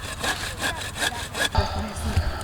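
A hand saw cutting through tree branches, rapid rhythmic back-and-forth rasping strokes about three per second, close and loud, then a few slower rubbing strokes and a faint woody crack near the end.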